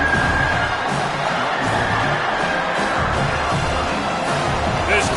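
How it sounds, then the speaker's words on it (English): A college football stadium crowd roars steadily as the defense is pressed, with cheers and whoops spread across a dense, continuous wall of noise that stays loud throughout. "This crowd rising up, sensing that its defense needs some help."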